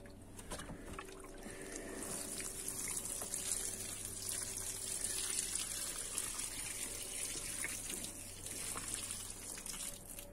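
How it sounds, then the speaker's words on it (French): Freshly sown garden seeds of flowers, herbs, peas and courgettes being watered, giving a soft continuous hiss of water spraying onto soil that swells and fades gently, quiet and close. "Donc là maintenant, il n'y a plus qu'à arroser."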